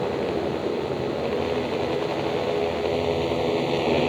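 Racing motorcycles rev together on the grid at the start of a 2021 Oceania Junior Cup race, a dense, steady roar of many engines held loud and close throughout.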